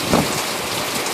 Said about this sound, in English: it looks a lot further away than that because it's raining so hard